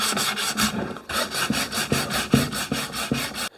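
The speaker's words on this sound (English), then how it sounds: "give it a nice little sand with this hand sanding pad" A hand sanding pad rubs back and forth over the wood of a DIY bird box, producing about eight distinct rasping strokes in a steady rhythm, close and clear, ending abruptly.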